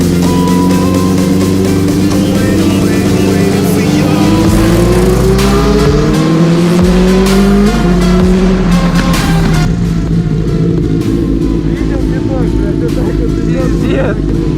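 A Benelli 600 motorcycle with a loud exhaust roars up close, its engine note climbing and dropping through repeated revs in a steady, deafening drone.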